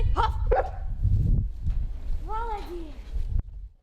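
A Cane Corso working with a novice handler gives two sharp, close barks, followed by outdoor noise and voices talking.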